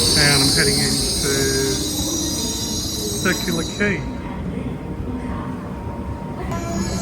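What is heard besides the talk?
train riding toward Circular Quay, Sydney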